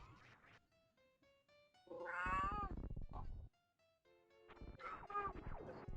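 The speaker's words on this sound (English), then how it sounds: "Did you at least hear the kitty meow?" A house cat lets out several drawn-out, wavering meows in a quiet room, fairly close and clear, with short pauses between the calls and no talking.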